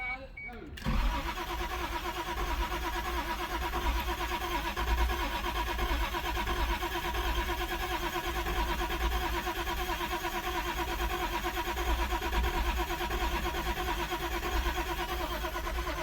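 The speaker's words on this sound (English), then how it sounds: "It's either gonna start or blow the intercooler pipe." A Toyota Supra engine fires up after sitting 27 years: a brief cranking burst, then it catches and settles into a loud, continuous rough running drone close by, with people talking over it.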